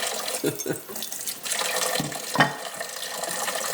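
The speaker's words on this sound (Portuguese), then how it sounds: "Agora imagina lavar a louça com a água gelada que os dedos dói." Tap water runs steadily into a sink while dishes and plates are washed by hand, with a few soft clinks and splashes mixed into the continuous flow.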